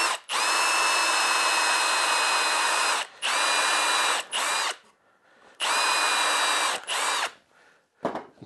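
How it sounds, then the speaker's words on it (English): A power drill countersinking a screw hole in an MDF board whines loudly in several sustained bursts with short pauses between, close and clear with no talk. "Now I'm going to countersink the MDF."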